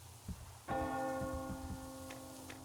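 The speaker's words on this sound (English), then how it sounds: "Do you hear that bell?" A church bell in the Metro Exodus video game strikes once and then hums with a long, slowly fading ring. Faint low thuds come before the strike, and there is no talking.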